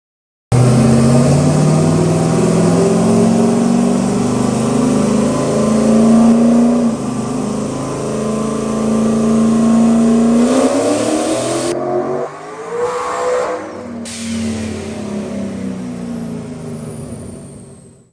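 A turbocharged 5.3 V8 on a dyno pulls hard through a long, loud rising rev, its pitch climbing steadily before the throttle chops and it stutters against boost cut, then winds down.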